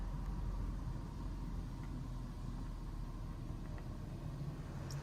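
Pre-soak cycle of a worn PDQ LaserWash 360 touchless car wash, heard as a steady, loud low rumble and hiss of spraying water and machinery that continues without a break.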